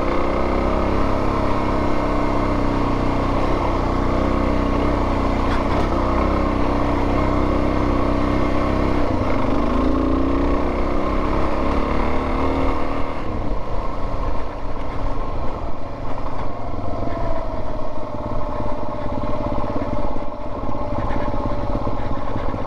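Motorcycle engine running steadily in first gear on a dirt trail in Nebraska, a continuous loud drone throughout with a slight shift in pitch midway, no talking.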